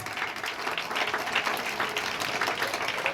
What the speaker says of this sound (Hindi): Applause everybody, तालियां बजाइए सब।